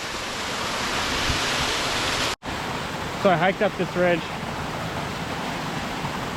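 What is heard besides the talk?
giant waterfall in a ravine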